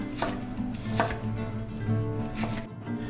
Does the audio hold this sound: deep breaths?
no